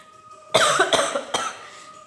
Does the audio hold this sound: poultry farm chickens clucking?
no